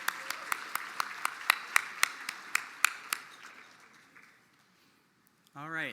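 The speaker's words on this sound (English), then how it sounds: "Let's give another round of applause for our esteemed invocation speaker" Sparse, evenly spaced clapping from a small audience at the Mille Lacs Band of Ojibwe State of the Band address, honoring an invocation speaker; the claps fade out after a few seconds, and a voice begins at the very end.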